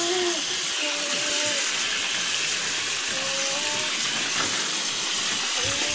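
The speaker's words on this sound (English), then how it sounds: "Putting water in a pool." Water pouring into a pool, a loud continuous rushing hiss with a faint mechanical hum underneath, steady from start to finish.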